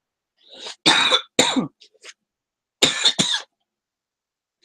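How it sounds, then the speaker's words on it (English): A series of harsh, uncontrolled coughs in two bursts separated by a short pause, close and loud, with no speech. "uncontrolled coughing"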